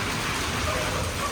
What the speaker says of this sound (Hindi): बारिश तो बड़ी टाइट किस्म की हो रही है